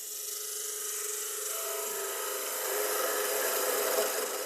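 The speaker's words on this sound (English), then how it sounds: "So I'll cut that curve in and then turn some of the spigot away into a foot." A lathe tool cuts into a spinning Brazil nut husk, giving a steady, loud, close grinding and scraping whine that runs without a break and rises slightly toward the end.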